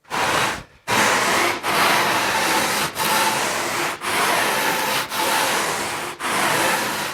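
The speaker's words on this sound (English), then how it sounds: "I'm just going to take passes from here with the G-rasp" A G-rasp shapes the foam bottom contours of a surfboard: rhythmic, close scraping strokes, about six long rasping passes each roughly a second long with brief pauses between them, and no talking.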